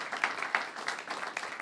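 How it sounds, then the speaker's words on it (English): A panel discussion audience gives a brief burst of applause, scattered claps from a modest crowd heard somewhat distant and fairly faint for under two seconds. "let's have a big round of applause for all of our panelists here today"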